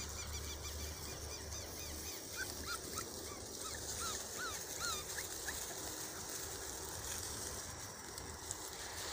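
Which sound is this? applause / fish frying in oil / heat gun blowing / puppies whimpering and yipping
puppies whimpering and yipping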